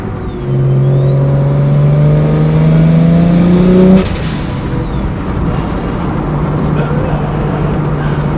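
BMW 1M clone fitted with an N54 single turbo kit, engine pulling hard with rising revs and a whistling turbo for about four seconds, then settling to a steady lower cruise drone, close and loud.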